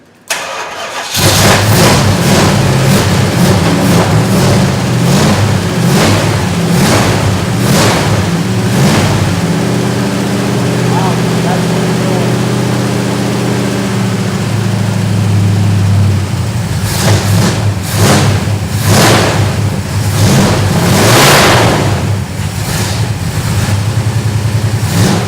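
A restored 1970 Plymouth Road Runner engine cranks, catches and runs loud and close with a carburetor needing work, holding a rough steady idle with several blips of revving throughout.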